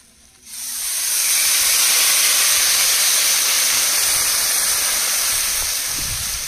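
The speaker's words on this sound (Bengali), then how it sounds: "এবার জল দিয়ে দেবো।" Water poured into a hot pan of fried crab, pumpkin and potato erupts in a loud, sudden hiss of steam that holds steady and roaring for several seconds, close up with no talking.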